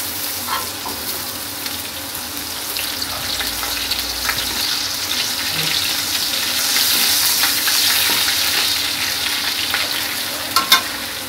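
Boiled greens cooking in mustard oil with green chillies, a steady close sizzle that swells midway, with occasional stirring clatter and a couple of sharp knocks near the end, no talking.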